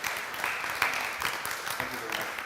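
An audience at a robotics and cybernetics symposium applauds with steady, moderately distant clapping spread across the hall.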